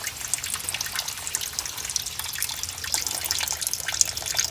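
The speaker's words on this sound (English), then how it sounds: "And our coolant's coming out." Coolant pouring out of a Jeep radiator, a steady close splashing trickle of liquid running without pause, with no talking over it.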